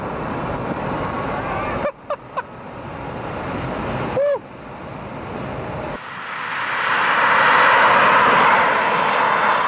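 A Tesla Roadster electric car accelerates hard: a steady rush of wind and road noise swells louder and brighter, with a few short rising whines from the drivetrain early on. No voices are heard.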